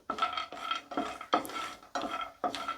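Cashew nuts roast in a tablespoon of ghee in a pan, a rhythmic scraping stir repeating about every half second, close and fairly quiet, with little sizzle and no voices.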